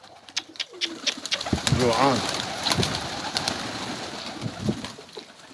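A strange pigeon-like bird coos and calls in a few short, close phrases, with someone talking over and around the calls.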